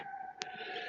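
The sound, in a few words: ambulance sirens outside window on main road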